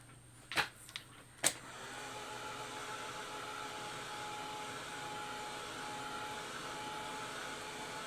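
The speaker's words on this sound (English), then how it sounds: "I'm using a Ranger Heat It tool, which you can purchase on Amazon." Ranger Heat It heat tool blowing hot air to dry a coat of acrylic paint, a steady whirring hum that starts after a few clicks and holds evenly.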